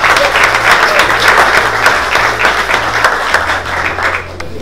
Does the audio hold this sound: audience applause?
yes